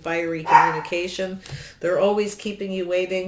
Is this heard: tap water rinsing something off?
no